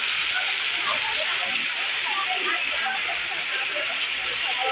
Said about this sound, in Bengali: অবিরাম 24 ঘন্টা এখানে জল পড়ছে